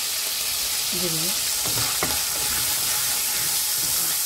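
Cloves, chillies, cardamom, cinnamon, bay leaf, cumin and chopped garlic sizzle in hot oil for tawa chicken, a steady close frying hiss with a brief spoken word and a couple of light clinks over it.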